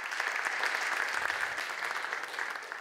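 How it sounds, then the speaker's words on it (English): An audience at a startup demo day gives sustained applause, a steady, full roar of many hands clapping at even loudness with no talking. "Let's have a warm applause for Eksan and Say."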